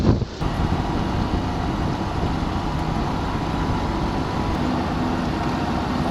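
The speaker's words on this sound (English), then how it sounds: "It's really windy!" Strong wind buffeting the microphone at dawn near mountains, a constant loud roaring rush with a brief gust burst at the start, steady throughout with no voices.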